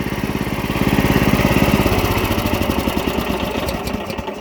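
Close and loud, the small engine of a farm plowing machine idles in a fast, steady chug with a rhythmic pulsing putter that continues throughout.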